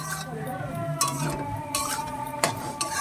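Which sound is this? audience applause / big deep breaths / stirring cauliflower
stirring cauliflower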